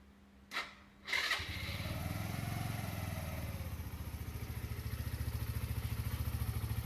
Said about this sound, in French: et je vais démarrer la moto.